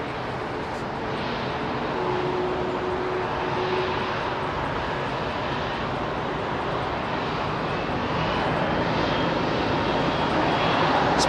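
A converted ex-KLM Boeing 747 Combi freighter at Heathrow runs its jet engines in a loud, continuous roar that builds gradually as they spool up.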